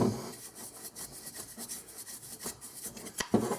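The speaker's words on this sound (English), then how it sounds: "paintbrush and just try to sweep out the checkering, because I don't know what kind of sawdust I have in there" A paintbrush sweeps sawdust out of the checkering on a wooden Mossberg 500 20-gauge shotgun stock, making soft, close bristle scrubbing in quick uneven strokes with no talking.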